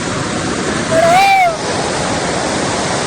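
Rushing water at a stream crossing near Hebbe Falls in Chikmagalur makes a steady, dense roar throughout, with a brief high whistling tone rising and falling near the middle.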